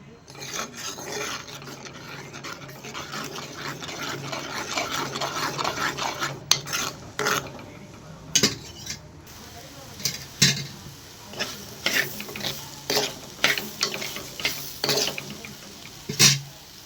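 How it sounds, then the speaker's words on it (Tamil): Egg poriyal is stirred and scraped around a pan, with rough rhythmic rasping strokes and a light sizzle that grow into quick, repeated scrapes close to the microphone. "முட்டையை நல்லா சுருள சுருள கிண்டி விடுவோம்"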